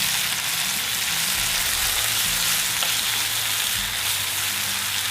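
Red wine vinegar hits a hot pan of tomato relish and sizzles loudly, a dense, continuous crackle and hiss that stays steady throughout, with no voices.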